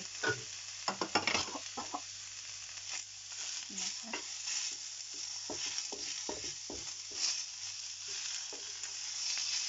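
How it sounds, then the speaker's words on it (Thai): Shrimp go into a lightly oiled pan with glass noodles, sizzling and frying steadily with a few sharp stirring clatters near the start, close and fairly loud throughout. "หลังจากนั้นก็ใส่กุ้งนะคะ กุ้งลงไปเลย"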